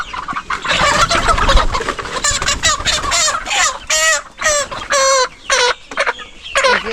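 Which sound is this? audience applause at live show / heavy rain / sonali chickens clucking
sonali chickens clucking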